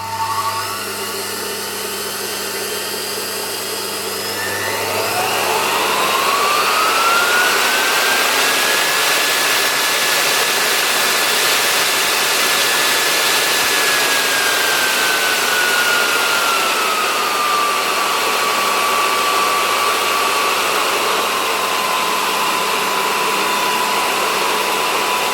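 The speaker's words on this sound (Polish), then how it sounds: "Zróbmy test tego silnika podłączonego przez regulator napięcia." A Lamb Electric motor from an Interstate Engineering Compact C-6 vacuum cleaner, fed through a voltage regulator, whines steadily as it spins up and its pitch rises, holds high, then slowly eases down. It runs continuously, loud and close, with no talking.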